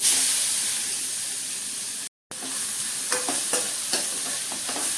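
Grated carrot frying in ghee in a pan, a steady loud sizzle with the scrape of stirring, briefly cut to silence midway, then continuing with a few sharper clicks of the spoon against the pan.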